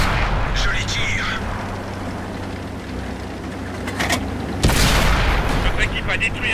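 A tank cannon fires in World of Tanks, with one heavy, close blast and its rumbling tail standing out near the end. Engine and battle noise run steadily underneath, and a voice speaks over the battle.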